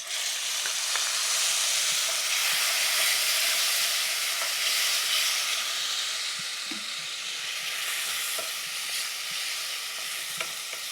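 Ground amla (gooseberry) and mint paste hitting hot oil in a pan with asafoetida, a loud, steady broadband sizzle and hiss that runs throughout with faint stirring scrapes.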